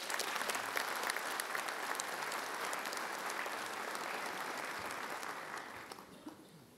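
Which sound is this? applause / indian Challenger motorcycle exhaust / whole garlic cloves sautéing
applause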